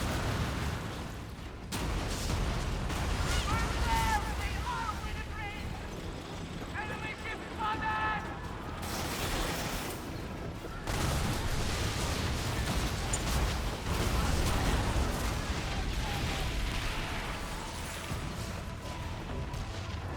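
Ship cannons firing in the naval game Skull and Bones, a barrage of loud booming blasts and bursts layered with game effects and speech throughout.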